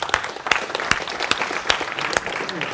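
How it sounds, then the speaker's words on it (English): An audience applauds steadily and fairly close, dense and even throughout, with a few louder individual claps standing out. "Would you dare to do that today? I might. Yeah, okay, applaud."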